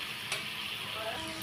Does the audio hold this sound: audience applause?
no